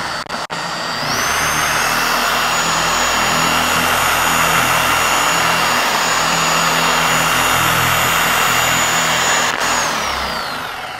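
A Lake Country UDOS 51E polisher starting up at speed 3, a loud close electric whine with a steady high tone and rushing motor noise that rises quickly and holds smooth and constant throughout.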